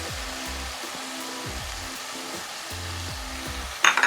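Chicken sizzles and fries steadily in a pan for a chicken cheese paratha, a constant hiss with stirring scrapes, then a brief louder splutter near the end as yogurt goes in, no speech.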